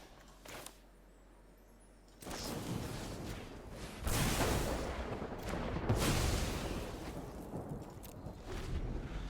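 Thunder effect of the Lightning Strike spell in the Magic: The Gathering video game: a sudden loud crack followed by a long rolling, rumbling roar with rain-like hiss that swells twice and stays dense to the end.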